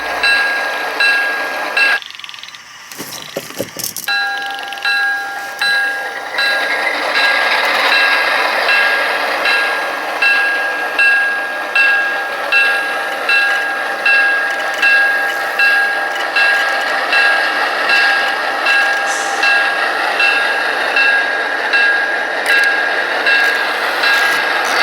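Broadway Limited Imports Blue Line RSD-15 model diesel locomotive running with its onboard sound: a steady engine drone with a repeating rhythmic pulse, after a brief louder burst near the start.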